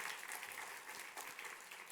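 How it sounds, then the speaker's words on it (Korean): A church congregation applauds the choir during a Sunday morning worship service, a steady, fairly distant wash of many hands clapping throughout. "우리 한번 격려와 사랑의 박수 한번 해주시면 좋겠습니다."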